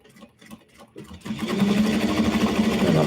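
A sewing machine stitches over a bag being prepped for sewing, starting with a few short stop-start bursts of back and forward stitching, then running steadily and loudly for the rest of the clip.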